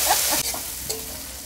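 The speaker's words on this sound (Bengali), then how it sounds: "পেঁয়াজ, আদা রসুন, কাঁচা লঙ্কা বাটা গরম তেলে কষে নিচ্ছি।" Onion, ginger-garlic and green chilli paste fries in hot oil with a steady, close sizzle, broken by a few scraping stirs of a spoon through the thick paste.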